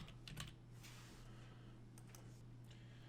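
Quick, light clatter of typing on a computer keyboard, a few close bursts of keystrokes over a low steady hum, fairly quiet overall.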